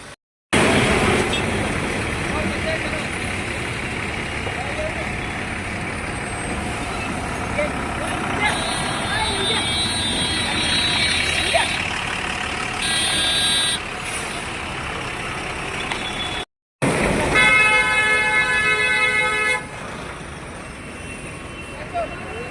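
Dense highway traffic backed up for an hour after a serious accident near Hadapsar on the Pune–Solapur highway: trucks rumble steadily with horn-like blasts and beeping tones rising over the din, while voices talk throughout.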